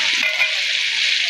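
Meat with spices, ginger, garlic and tomato sautés in a hot pan, giving off a loud, continuous, close-up sizzle with a brief stirring scrape near the start.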